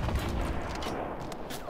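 Gunfire in the video game Fortnite Battle Royale, a dense burst of rapid shots at moderate distance with a rumbling low end, filling the short stretch without pause.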